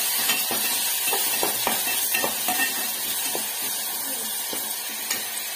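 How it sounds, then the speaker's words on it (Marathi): Tomato and onion frying in a pan, a steady sizzle broken by repeated scraping and clicking as a spoon stirs the mixture, close and moderately loud, with no talking. "टोमॅटो भाजतोय आपला"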